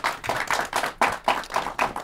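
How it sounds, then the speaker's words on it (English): A short burst of hand clapping, a few close claps in quick irregular rhythm, with no voices. "Give her a round of applause"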